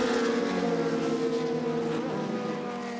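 A McLaren Elva M1B, an early Can-Am type sports racing car, drones past at a classic endurance race, its steady engine note holding a sustained tone that slowly fades over three seconds, with no talking.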